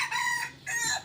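A black rooster crows loudly and close by, with a strained, harmonic call broken by a short pause in the middle, on a rural home property in Xieng Khouang.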